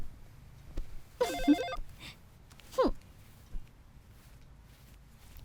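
A telephone rings at night in a frightened household, two short electronic ring bursts about a second apart that are moderately loud over a quiet, low background hum.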